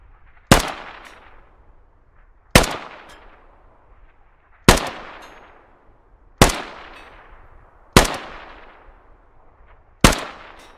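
A rifle in the game Squad fires six single shots at firing range targets about 100 meters out, each a sharp, loud crack with a fading tail, spaced roughly two seconds apart.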